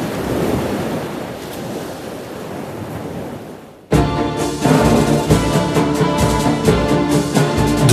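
Ocean waves breaking on the shore: a soft wash of surf first, then a sudden loud, dense roar of crashing water that continues steadily to the end.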